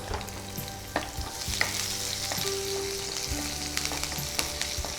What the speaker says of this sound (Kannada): ಎಣ್ಣೆ ಕೂಡ ಬಿಸಿಯಾಗಿದೆ, ಬೆಳ್ಳುಳ್ಳಿ ಫ್ರೈ ಆಗ್ತಾ ಇದ್ದ ಹಾಗೆ ಗ್ರೀನ್ ಚಿಲ್ಲೀಸ್